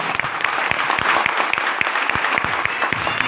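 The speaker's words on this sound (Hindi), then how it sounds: "ताली होना चाहिए" Applause from an audience at a Safe Shop motivational talk, a dense steady clapping that runs the full length at close range, with no speech over it.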